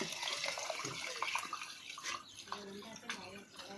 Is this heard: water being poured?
yes